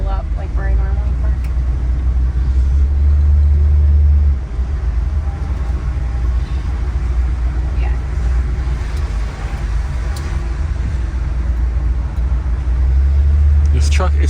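Pickup truck, a crew-cab Bumpside, driving: a steady low engine drone and road rumble from inside the cab, continuous and loud, with people talking over it.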